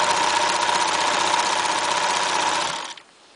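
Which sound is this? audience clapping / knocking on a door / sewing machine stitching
sewing machine stitching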